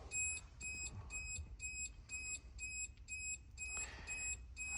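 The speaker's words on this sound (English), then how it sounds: "you're gonna have to deal with the beeping, I'm sorry, because my door is open" A Suzuki Jimny's open-door warning chime beeps in a steady rhythmic series of bright electronic tones, about nine evenly spaced pulses, over a quiet cabin hum with a brief rustle near the end.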